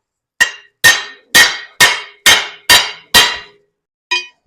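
A motor plate from a Knucklehead frame's shipping hardware, used as a beater, strikes metal in seven sharp, evenly spaced ringing blows, then one lighter tap after a pause.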